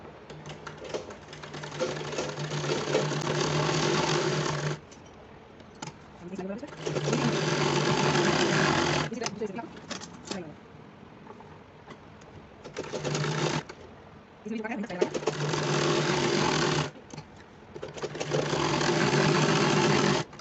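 A sewing machine runs a straight seam on leftover fabric for a small child's kurta. It comes in five loud, steady bursts separated by short pauses, with no one talking.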